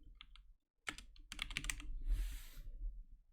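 Keystrokes on a computer keyboard enter a search in a short quick burst, close and fairly quiet, after a brief silence, followed by a soft rushing noise.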